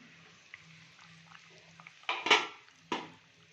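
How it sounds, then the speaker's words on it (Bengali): A metal lid comes off a pot of simmering mustard fish curry with a couple of sharp clanks and a rattle, after a stretch of quiet kitchen noise. "এবার আপনার ঢাকনাটা খুলে দেখে নেব।"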